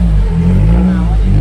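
A Maruti Gypsy's engine idles and revs with a low, steady exhaust rumble from a front-mounted silencer, close and loud throughout.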